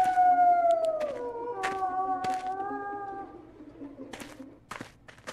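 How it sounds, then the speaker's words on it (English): A coyote howls outdoors in one long, sliding wail that fades out, followed by a few sharp knocks and faint background noise, with no talking. "And the coyote."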